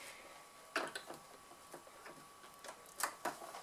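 Sewing machine stitching close along the edge of fabric piping, a faint run of quiet mechanical clicks and short whirring bursts in a still room.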